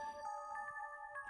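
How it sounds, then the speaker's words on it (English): A home telephone rings in the Summer Nightmare horror game, an electronic ringtone with stacked steady tones pulsing in short repeated bursts, fairly quiet and alone. "As soon as I got home, the phone rang."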